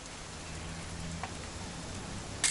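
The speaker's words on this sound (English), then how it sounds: "It's gonna rain the whole weekend, isn't it?" Steady rain falling in the game What Remains of Edith Finch, a dense continuous hiss of drops on surfaces, moderately loud, with a brief sharper splash near the end and no voices.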